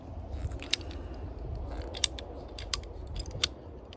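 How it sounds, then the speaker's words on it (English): Ratcheting PVC cutter working through PVC pipe, giving a few sharp, close clicks at roughly even intervals over a quiet low rumble. "I use this ratcheting PVC cutter. It just ratchets,"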